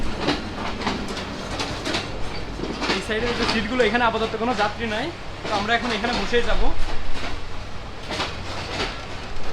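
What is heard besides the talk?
Nakshikantha commuter train running from Khulna to Dhaka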